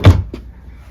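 A hotel room nightstand drawer slides shut with a single solid thump, followed by a second lighter knock, then a quiet room.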